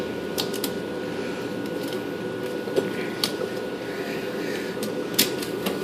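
Ratchet strap being released from the compressed belt tensioner on a Pontiac Grand Am 3.4 liter engine, several sharp metallic clicks spaced irregularly over a steady low background hum.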